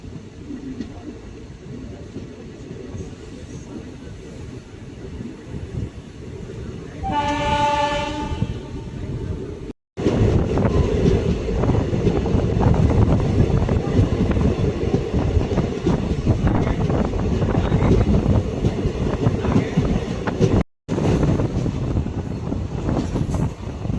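Passenger train running at about 100 km/h between Rameswaram and Madurai, a steady loud rumble and rattle of wheels with a brief horn blast partway through.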